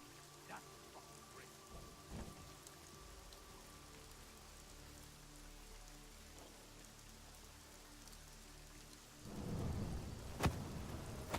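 Rain falling steadily in the video game Deus Ex: Mankind Divided, a faint continuous patter with a low thunder-like swell near the end, no voices.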